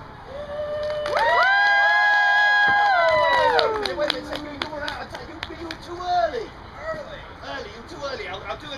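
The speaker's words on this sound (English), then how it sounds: "So I start juggling, you guys start cheering." A live audience at a spring finale show cheers for a juggling act, with a long sustained whoop swelling up, then scattered clapping, shouts and children's yells at close, lively volume.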